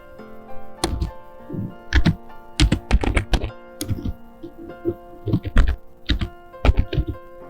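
Keys clack on a computer keyboard in irregular bursts of sharp, close taps with short pauses between runs, while someone edits a design in Canva.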